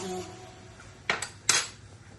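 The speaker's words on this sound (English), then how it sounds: "put a back of the spoon into the soup" A spoon is dipped into a pot of roasted tomato and pepper soup, giving two short, close metallic clinks against the pot about half a second apart, over a quiet room.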